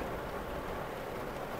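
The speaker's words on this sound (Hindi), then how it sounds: "बारिश तो अभी रुकने का नाम नहीं ले रही।" Heavy rain falls steadily on a road trip near Balakot, a dense, even hiss of downpour holding at a constant level throughout, with no voices.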